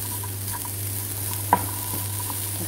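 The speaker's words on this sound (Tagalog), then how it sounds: "Bell pepper ang sunod natin. Haluin lang natin." Bell pepper stirred in a frying pan for a light pasta dish, with a soft steady sizzle under one sharp clink of the utensil against the pan, up close and without voices.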